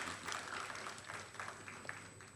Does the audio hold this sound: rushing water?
no